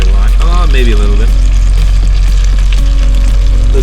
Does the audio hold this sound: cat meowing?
no